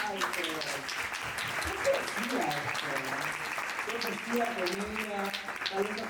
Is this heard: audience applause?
yes